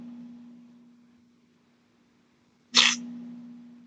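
A single sharp human sneeze bursts out near the end, loud and close, following a stretch of near silence over a low steady electrical hum.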